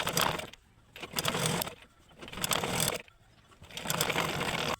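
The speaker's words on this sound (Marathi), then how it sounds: "फोल्ड करून त्यावर शिलाई मारून घ्यायची आहे" Sewing machine stitching along the folded edge of a cut-work blouse sleeve, running in four loud bursts separated by short pauses.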